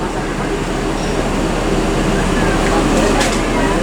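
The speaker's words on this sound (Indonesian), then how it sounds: "Dan barusan melintas ada Tranek dan NPM V52 ya." A passing train carrying Tranek and an NPM V52, a steady loud rumble of rolling cars filling the whole stretch, with a faint metallic squeal near the end and people talking underneath.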